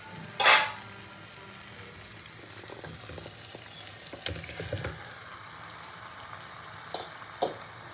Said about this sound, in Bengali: এবার আমার ম্যারিনেট করা চিকেনটা দিয়ে দেবো।